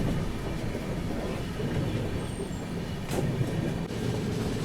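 The Shantiniketan Express rushes past in India, heard from aboard another moving train as a loud, steady rail rumble and clatter with a brief sharp whoosh partway through.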